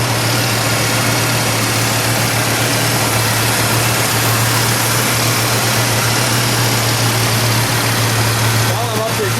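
A 1968 Mercury Cougar XR7 GTE's 7-litre 428 Cobra Jet V8 idles loud and close, holding a deep, steady rumble for the whole stretch with no revving.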